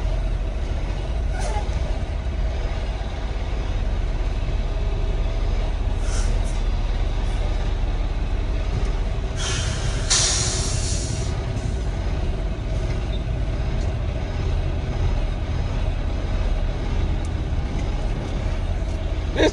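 Freight-line test truck driving, a steady low engine and road rumble throughout with a brief hiss like an air brake release near the middle; someone talks over it.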